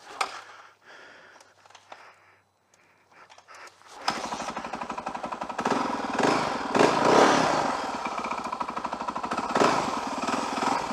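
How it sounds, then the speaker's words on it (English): A cold motorcycle engine is kick-started: a few quiet scuffs and kicks come first, then it catches and settles into a loud, close, rapidly pulsing idle with some revving that continues to the end. "pull it in, edge it over, and give it a hell of a kick. This thing is cold, so it's going to take a couple kicks to do that."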